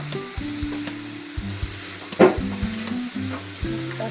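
Washed French beans hitting a hot pan for a quick sabji, a steady close sizzle with a brief louder burst midway and faint stirring, no voices.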